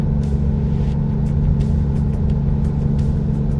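In American Truck Simulator, a truck engine runs at full throttle with a constant, loud, droning low hum that stays steady without rising in pitch, heard alone with no speech.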